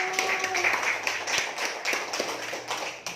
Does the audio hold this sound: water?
no